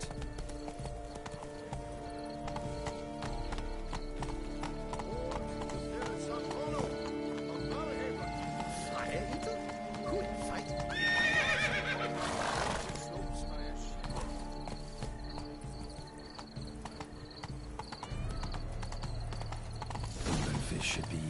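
A horse in The Witcher 3 clip-clops along at a steady gait while game music and ambience play underneath, and a neigh rises briefly partway through.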